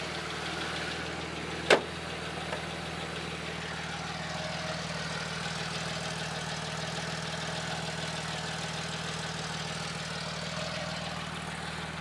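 A 1977 Porsche 911S Targa's engine runs with a steady, even hum from moderately close, broken once early by a sharp click, without talk over it.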